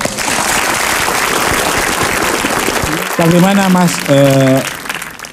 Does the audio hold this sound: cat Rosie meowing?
no